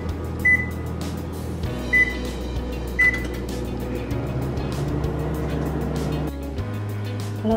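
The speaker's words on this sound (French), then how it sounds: "on va cuire au micro-ondes de 2 à 2 minutes et demie" Microwave oven humming steadily while cooking keto cake batter, its low motor drone shifting pitch a few times as the turntable runs, with three short electronic beeps from the keypad near the start.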